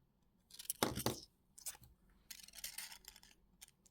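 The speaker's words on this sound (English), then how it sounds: "cut that weaving wire, press that little cut end down" Wire cutters snip weaving wire on a wire-wrapped pendant, a few close, quiet metallic clicks and short crisp bursts with brief gaps between them.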